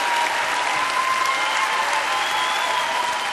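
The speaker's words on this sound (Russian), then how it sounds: "Зал аплодировал вам стоя." A figure skating arena crowd gives a standing ovation after a performance, with dense, steady applause filling the space at a loud, even level throughout, without a break.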